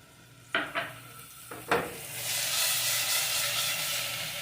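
Chopped pitted olives hit a hot pan, a few sharp clacks and scrapes of a utensil against the pan, then a rising, steady sizzle of frying that carries on alone to the end.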